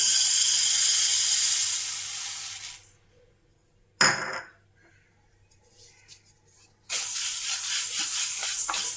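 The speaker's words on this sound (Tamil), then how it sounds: "இப்போ நான் ஒரு கப்பு பச்சை பயிர் எடுத்துருக்கேங்க இதை வறுத்துக்கலாம்" A cup of green gram being dry-roasted in a pan: a dense, hissing rattle of grains stirred over heat, loud at first, then dropping away to near silence with a brief scrape, before the steady rustling sizzle returns.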